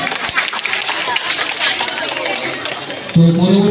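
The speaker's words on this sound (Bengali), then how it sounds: "বোর্ড অফ বারেপুর রবীন্দ্রনাথ টেগোর কলেজের জন্য একটু জোরে হাততালি হয়ে যায়।" Crowd applause at a Baruipur art event in honour of the Board of Baruipur and Rabindranath Tagore college: dense, steady clapping fills the scene, with a voice cutting in near the end.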